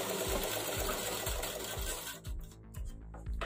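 A sewing machine stitches fabric for a home-made face mask, a fast rhythmic needle chatter of regular pulses, close and loud, continuing steadily without any talk.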